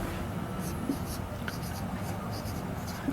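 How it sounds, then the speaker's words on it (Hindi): Marker or chalk writing a heading on a board in a physics lesson, a series of short scratchy strokes at close range, steady and moderately loud, with a voice faintly present. "तो टॉपिक की हेडिंग लिखते हैं,"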